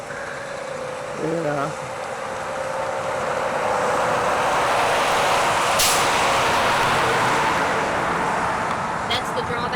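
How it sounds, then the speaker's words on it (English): A truck on a highway beside train tracks near a depot museum, its roar building from a low rumble to a loud, sustained broadband wash as it passes close by, with a brief spoken word early on. "I'm going to wait till that truck passes because it's going to get loud in a second."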